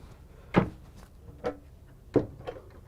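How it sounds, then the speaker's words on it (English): Pull-out storage drawers in a Tiffin Allegro Bus 45OP motorhome sliding and knocking: four distinct close thumps, two strong and two lighter, spaced irregularly across a quiet interior. "more storage, pull-out drawers."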